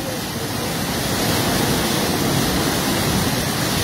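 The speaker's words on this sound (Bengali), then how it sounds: "পানির বেগ কমছেই না, বৃষ্টির কারণে, অতিরিক্ত বৃষ্টির কারণে পানি" Rushing floodwater released from an opened dam during heavy rain, a loud, steady broadband roar that swells slightly and continues without break, close and dominant.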